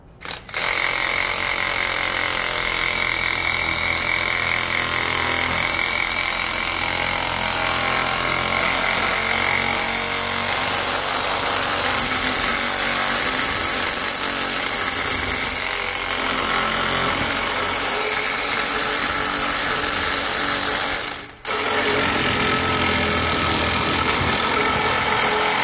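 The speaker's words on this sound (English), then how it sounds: "Sawzall." A Sawzall reciprocating saw cuts hard and close, a loud, continuous rattling buzz that runs nearly nonstop, breaking off once for a moment before starting again.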